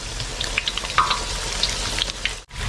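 Taro pieces deep-frying in hot oil for a Chinese dim sum dish, giving a steady close sizzle with scattered crackles and pops throughout, no talking.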